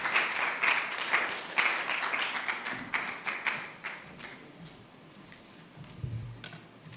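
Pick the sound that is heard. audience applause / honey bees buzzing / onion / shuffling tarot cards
audience applause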